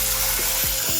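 Water is poured into a hot pan of sautéed onions while making upma, giving a loud continuous hiss and sizzle with a few low bubbling gurgles throughout.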